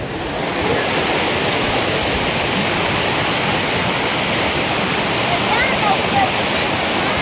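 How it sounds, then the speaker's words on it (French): A strong river current flowing outdoors, loud and continuous broadband roar with no breaks, close by and dominating the scene. "T'entends-tu le bruit de la rivière?"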